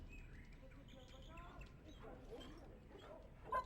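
A dog in the video game Dragon Age whimpers and gives small yips and barks, with faint chirpy tones around it, fairly quiet against a low ambient background.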